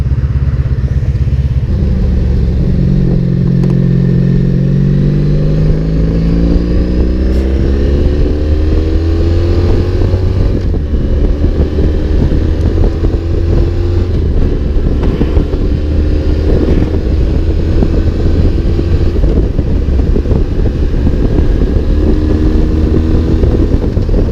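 A motorcycle engine drones steadily while riding at highway speed, its pitch rising through a gear change, under heavy constant wind rush buffeting the microphone.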